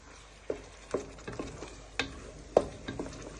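A spoon stirs paprika into chicken in a hot pan, making a series of distinct scraping knocks at an uneven pace over a soft, steady sizzle, with no talking.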